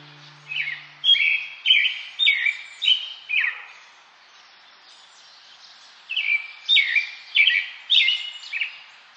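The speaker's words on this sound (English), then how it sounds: "I've been hearing birds out my own window lately." Birds sing in two bursts of bright, repeated chirping phrases separated by a quiet pause, fairly clear against a silent background.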